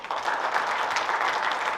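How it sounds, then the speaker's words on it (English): Chartered accountants at a CA Day 2025 event give a round of applause after a presentation, a steady, fairly soft wash of many hands clapping at once. "please let's have a great round of applause"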